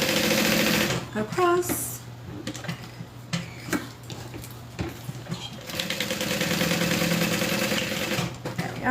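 A sewing machine sews a seam on a beginner's project, its motor whirring in short bursts and a longer steady run, close by, with a person talking over parts of it.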